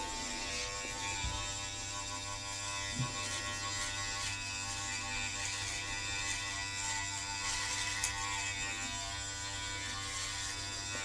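GLAKER electric hair clippers run with a steady, thin mechanical buzz and hum, fairly quiet and unbroken for about eleven seconds, with faint clicks and handling noise.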